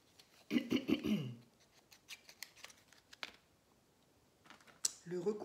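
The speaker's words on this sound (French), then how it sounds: "recouper un tout petit peu. J'ai perdu mes tout petits ciseaux" Small scissors snip at a vintage paper craft piece in a few short, close cuts, interspersed with quiet handling noises and someone talking at the start and end.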